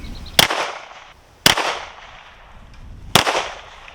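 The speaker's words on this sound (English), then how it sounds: "Just do an 8-shot target load in it because I'm curious if a spread shot will get through some of this stuff." A 12 gauge shotgun firing 8-shot target loads outdoors: three loud, sharp blasts about a second or more apart, each with a short rumbling decay, close to the listener and without talk.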